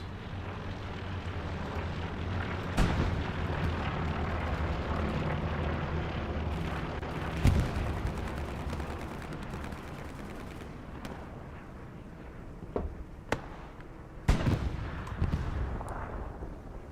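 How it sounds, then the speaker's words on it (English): Explosions and distant gunfire in the video game Hell Let Loose, Tobruk map at Admiralty House, with a constant rumbling battlefield bed broken by several sharp blasts, the loudest late on. "Another explosion happens inside."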